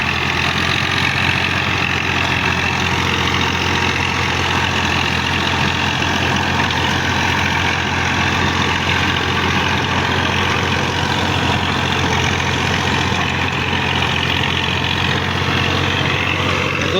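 A Massey Ferguson 240 tractor running with a 48-blade rotavator gives a loud, steady, unbroken engine drone with a deep rumble, holding constant for the whole stretch and heard alone, with no speech.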